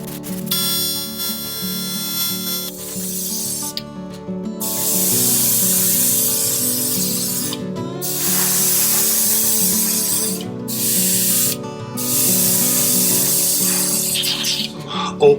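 An airbrush sprays thinned paint onto a segmented walking fishing bait. Loud, close bursts of spray hiss come on and off in several long passes, with short gaps of quiet between them.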